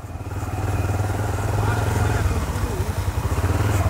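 A motorcycle rides through the town of Bananeiras in Paraíba, Brazil, its engine chugging steadily and close with a throbbing low rumble and road noise throughout.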